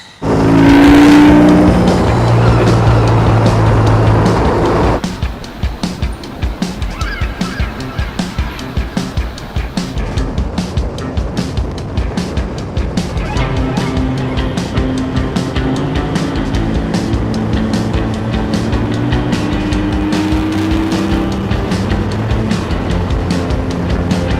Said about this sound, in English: All right, let's ride.